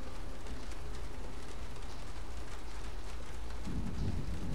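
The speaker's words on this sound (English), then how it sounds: "Oh, look, rain." Rain and rolling thunder from a stormy level in the video game Gears of War 2, a steady dense hiss of rainfall with a low rumble swelling near the end, no voices over it.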